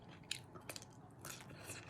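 Crunchy, fleshy food bitten and chewed up close: a few sharp crunches early on, then a longer burst of moist crunching toward the end, with no talking.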